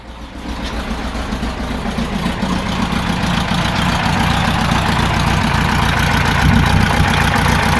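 A Volkswagen Type 4 Bug engine, running without its alternator belt, catches and settles into a steady, loud idle that holds evenly throughout, with no voices over it.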